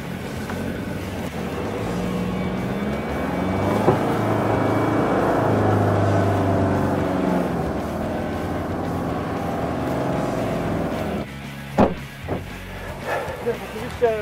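A Land Rover's engine revs up steadily as the vehicle pulls free of deep sand, a loud sustained drone with shifting pitch, followed by clanks and knocks as it settles.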